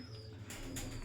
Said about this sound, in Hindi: ये बड़े हौसले के साथ और जिगरे के साथ ये कबूतर शेख साहब की तरफ आया जी